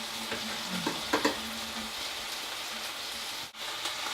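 Cooked pasta being mixed with vegetables and tomato sauce in a big pan, a dense continuous sizzle with a few scraping, stirring knocks early on, close and fairly quiet with no talk.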